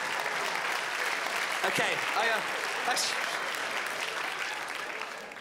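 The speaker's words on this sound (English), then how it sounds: "The biggest round of applause so far there." Applause from a live comedy audience swells into steady clapping and cheering that fills the space, then tapers slightly toward the end, with a brief spoken word from a man near the start.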